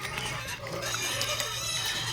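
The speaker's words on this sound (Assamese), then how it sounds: "কেনেকুৱা উৎপাত গাহৰি আহিছেনে?" Pigs grunting and snorting nearby at feeding time as they are given water mixed with vitamins, a continuous jumble of grunts and squeals with no talk.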